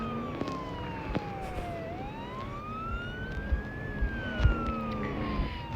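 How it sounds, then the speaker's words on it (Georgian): Police car siren in a video game, a wailing tone sliding down then up and down again at moderate level, with scattered clicks and thuds from gameplay alongside. "მე მგონი პოლიციის მანქანის ხმა"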